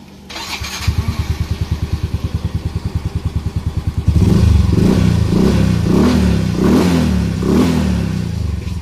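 A Yamaha motorcycle engine being tuned starts with a rapid, even idle chug, then revs up loudly in several repeated swelling throttle blips, close and alone.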